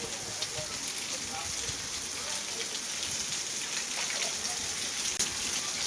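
Steady heavy rain pours down in a constant dense hiss, close and even throughout, with no voices over it.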